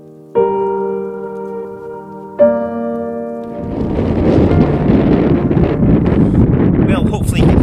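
Strong wind buffeting the microphone on Ben Lui mountain in Scotland, a loud continuous roar that swells after two brief tonal notes at the start.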